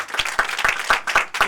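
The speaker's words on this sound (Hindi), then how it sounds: "आइए यीशु के लिए जोरदार तालियां" A church congregation at a Christmas meeting claps in unison, a rhythmic burst of synchronized beats about five per second, loud and close, with no talking over it.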